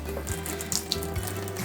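A water tap runs into a basin with the plug in, filling it shallowly for a guinea pig bath; a short, soft, steady splashing trickle close by with no talking.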